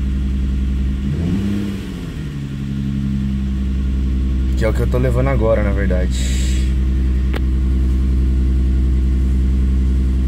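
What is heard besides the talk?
Hyundai Azera engine running rough after sitting over a week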